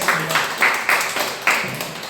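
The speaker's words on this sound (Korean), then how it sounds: "하나님께 감사 박수하겠습니다." A church congregation claps in a few loose, uneven bursts, with roughly four or five distinct swells of hand claps spread across a short moment and no one speaking.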